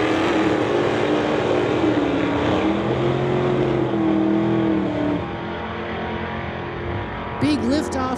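Drag racing engines at a street legal drag strip as a Pontiac and a 1997 Mustang launch, a loud sustained roar with rising revs that drops away as the cars pull off, a commentator talking over it.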